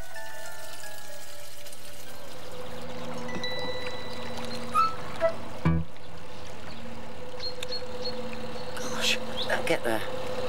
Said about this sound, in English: More water for thirsty Loopy.